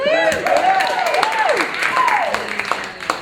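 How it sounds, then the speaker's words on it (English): Theater audience applause before a stage performance of Brave New World, moderate clapping with a voice speaking over it. "Yes, your applause feeds my black, twisted soul."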